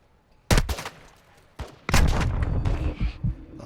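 Heavy gunshots and booming blasts in a Call of Duty match during an airstrike, loud and close: a sharp report, a second hit, then a sustained rumbling barrage of impacts and shots.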